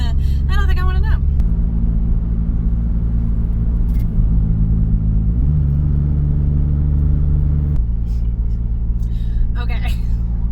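Steady, loud engine drone of a Toyota 4Runner climbing over Wolf Creek Pass toward Pagosa, a low continuous rumble with a gear-like shift midway, and brief talk near the start and end.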